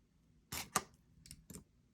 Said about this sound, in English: I'm going to cut 4 inches of my wire.